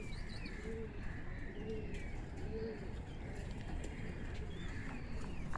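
Domestic Patti walay and Chatri walay pigeons coo three times in an even rhythm, with faint chirps over a low, constant background hum.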